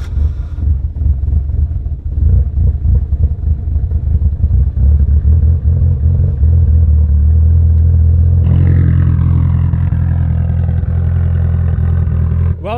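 A Mitsubishi Evo 8 engine runs close up, warming up and idling with a loud, steady, throbbing rumble, rising a little in pitch partway through.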